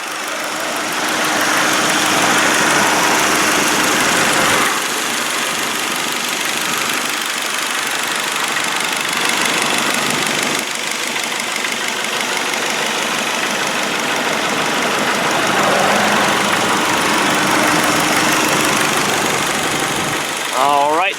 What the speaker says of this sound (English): be quiet and let you listen to the motor